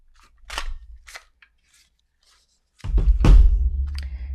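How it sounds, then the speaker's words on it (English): A 1 3/4 inch circle punch works through scrap tan paper, giving a few sharp close clicks and crunches, then a louder snapping crunch with a brief ringing tail. "I'm gonna bring in some more of this tan paper and my 1 3/4 circle punch, and I will punch out from the scrap of paper"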